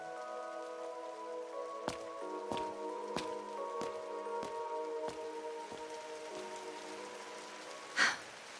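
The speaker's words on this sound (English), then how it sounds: "Why'd it have to rain?" Rain falls in the video game Trails into Daybreak, a steady soft patter beneath sustained music tones, with sharp tapping hits recurring every half second or so and a brief louder splash near the end.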